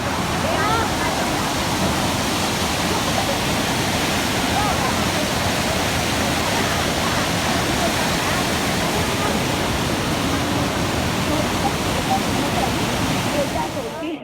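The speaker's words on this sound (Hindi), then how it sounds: "यहाँ पे इस पानी के गिरने की आवाज़ बहुत ही तेज़ आ रही है।" Kempty Falls in Mussoorie roars as a loud, continuous rush of falling water, close and unbroken, filling the whole stretch with dense white noise.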